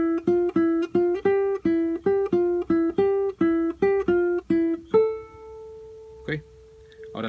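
A guitar plays a cumbia phrase from a Colombian tune, picked as a steady run of bright, evenly spaced notes, ending on a long ringing held tone followed by a short strum.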